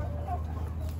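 Chickens and a rooster out in the greenery give a brief, low, murmuring cluck over a steady background hum, close and moderately loud for about a second.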